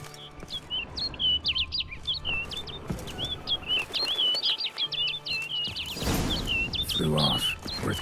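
Bird in the Witcher 3: Blood and Wine video game flying off: rapid high chirps and twitters run throughout over game ambience, with a burst of flapping wings near the end and a voice speaking.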